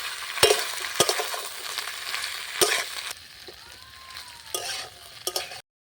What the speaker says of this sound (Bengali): মশলার সঙ্গে মিশিয়ে নিচ্ছি